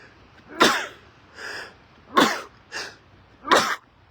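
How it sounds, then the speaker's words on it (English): Three loud sneezes close by, evenly spaced, each preceded by a quick sharp inhale, with quiet room noise between them, outdoors in cold early-morning air at Clam Pass, North Naples, Florida. "I'm going to sneeze."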